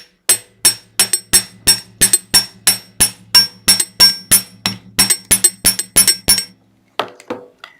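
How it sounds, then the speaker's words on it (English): A small hammer strikes the wire of a jewelry pendant in a quick, steady rhythm, about twenty sharp ringing taps close up, then a pause and a few softer knocks. "Hammer it."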